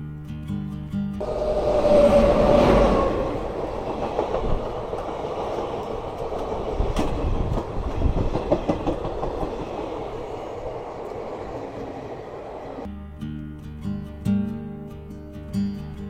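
A train pulls out of Jhalida station and runs on the rails, a loud, steady rumble with rattling wheels and a brief squeal near the start, close by for about twelve seconds before fading into quieter background.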